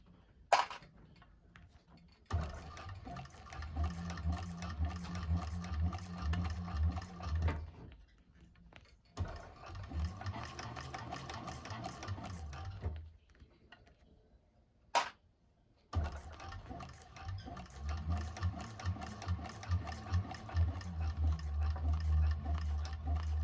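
A 1341 cylinder arm sewing machine stitches pleats into a bag, running in steady rhythmic passages at moderate volume with a few short pauses where it stops, and no one talking over it.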